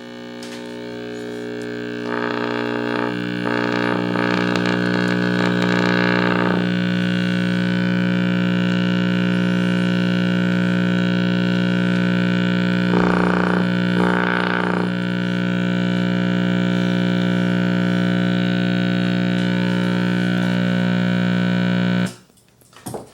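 A 1960s Gaytime clock radio gives out a loud, steady electronic buzz of digital interference with a harmonic hum, changing in tone for a few seconds twice before cutting off abruptly near the end.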